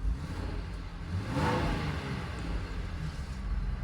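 A 6th-generation Ford Explorer engine gets a short, quick rev that swells and fades within a couple of seconds. It is heard up close at moderate loudness over a low idle hum, with no talk.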